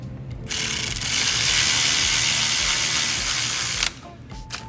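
A ratchet tightens bolts on a 2006 Toyota Avalon during alternator replacement, giving a loud, steady run of rapid pawl clicks for about three seconds before stopping abruptly, with a few faint clicks after.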